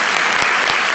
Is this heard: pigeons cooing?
no